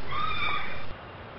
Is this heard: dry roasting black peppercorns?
no